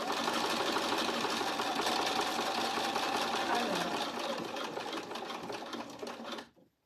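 A sewing machine stitches steadily along the curve of a strap, a fast continuous mechanical whir heard up close that slows and stops at the end.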